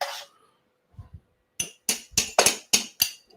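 A faint scrape, then about seven sharp, ringing taps of a small hammer on a metal woodturning lathe chuck in quick, slightly uneven succession.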